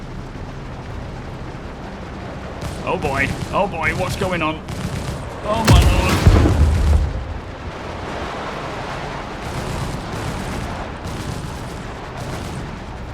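Enemy ship weapons firing in the space game Star Citizen: rapid bursts of heavy blasts building to one loud, booming volley, then a lingering rumble, with a startled voice exclaiming over the barrage.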